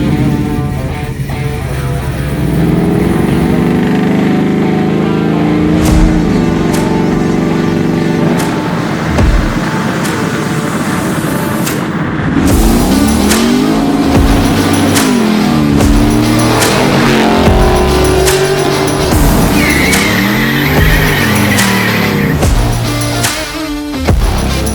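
Custom 1964 Chevrolet Chevelle sleeper engine revving hard while driving on the road, loud and close throughout, with repeated rising and falling surges as it shifts and accelerates.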